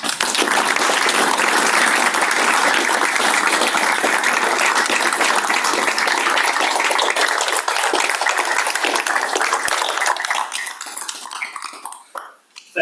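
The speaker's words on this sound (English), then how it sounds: "By a show of applause and support for Ms. Page, we join together." Audience applause for Ms. Patricia Page at a joint annual meeting, a dense sustained clapping from a standing crowd that holds steady and then thins out and fades near the end.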